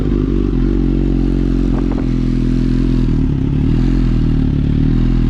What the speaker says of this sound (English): We'll fire this one up, see how it sounds.